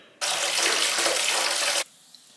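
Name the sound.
shower water running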